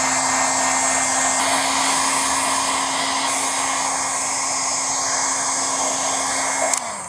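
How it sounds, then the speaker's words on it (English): A loud, constant whoosh of a heat gun running steadily close by, heating paint protection film, with a faint whine, cutting off with a click near the end. "I'm gonna use a heat gun."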